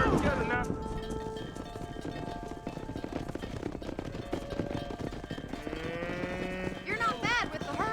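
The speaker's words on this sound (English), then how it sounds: "Keep that herd together now." A herd of cattle moos repeatedly in the Western game Red Dead Redemption, the lowing calls rising over a busy bed of hoofbeats and movement, with voices talking over the herd.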